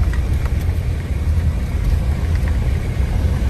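Steady, loud low rumble of wind buffeting a GoPro on a moving vehicle during a drive above Big Bear, continuous and close with no voices.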